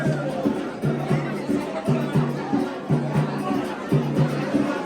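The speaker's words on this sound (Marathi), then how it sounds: "पूर्ण गर्दीच गर्दी आहे लास्टपर्यंत गर्दी आहे बघा" A packed crowd of devotees fills the Ekvira temple. Close voices murmur and chatter in a steady hubbub, broken by a soft, regular pulsing rhythm that repeats throughout.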